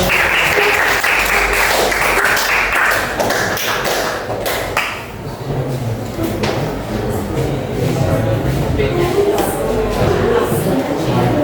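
Classroom applause from a group, steady and loud clapping that fills the room without a break, with a few thumps and faint voices mixed beneath.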